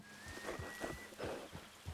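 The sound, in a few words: horse hooves in Red Dead Redemption 2 video game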